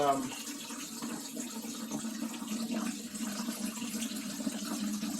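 Water gushes steadily out of a partly drained PEX water line, a continuous close splashing rush with a low churning tone that lasts throughout and no talking over it.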